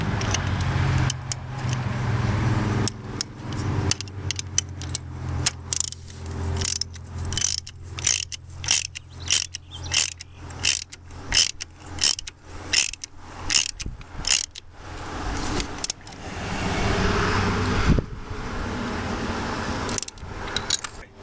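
Hand ratchet turning spark plugs into a Jeep Cherokee engine: a close, steady run of clicking strokes in a regular rhythm that speeds up mid-clip, with metallic tool handling before and after.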